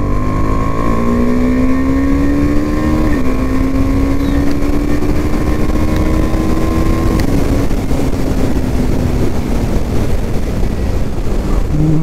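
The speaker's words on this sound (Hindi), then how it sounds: "बाइक को थोड़ा खींच के देखते हैं।" KTM Duke 390 motorcycle accelerating hard, its engine note rising steadily through the revs with a gear shift midway, loud and close with strong wind noise throughout.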